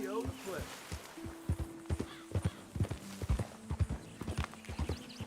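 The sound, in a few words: horse hooves and neigh in video game Red Dead Redemption 2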